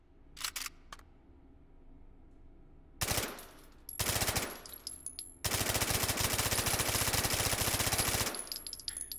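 Suppressed Vityaz submachine gun firing in the VR game Hot Dogs, Horseshoes & Hand Grenades: a few short early bursts, then a long sustained stream of rapid automatic fire, loud and close, with no talking.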